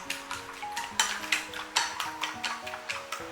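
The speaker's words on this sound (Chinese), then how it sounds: "然后用筷子把鸡蛋搅散，一定要把蛋白和蛋清充分搅拌均匀" Chopsticks beat salted eggs in a bowl with quick, steady clicking strokes, about a dozen sharp taps against the bowl in an even rhythm, close and clear with no talking.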